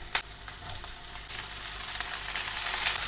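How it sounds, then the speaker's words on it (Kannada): Ingredients for nati chicken sambar sizzle and fry steadily in a pan, a continuous crackling hiss with occasional stirring clinks, close and fairly loud with no talking. "ಇದನ್ನು ಅದಂಗೆ ಫ್ರೈ ಆಗ್ತಾ ಇರಲಿ"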